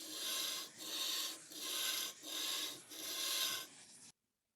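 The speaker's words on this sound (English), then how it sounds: "we're going to check with the whetstone if the angle is correct." A knife blade rubs on a 220 grit Japanese whetstone in four long, rhythmic gritty strokes, close and fairly loud, ending in silence with no talking.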